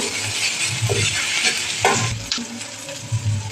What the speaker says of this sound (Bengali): দিয়ে মশলাটাকে কষিয়ে নেব ভালো করে।